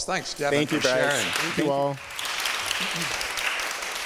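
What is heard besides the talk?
audience applause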